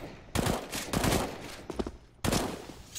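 Rapid bursts of gunfire from a Counter-Strike: Global Offensive match on the Mirage map near ramp, several loud close volleys separated by brief pauses.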